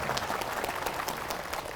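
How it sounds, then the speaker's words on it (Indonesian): Crowd applauding at a hot, sunny outdoor gathering in an open field, dense continuous clapping heard from a moderate distance, fairly faint. "Barulah tepuk tangan."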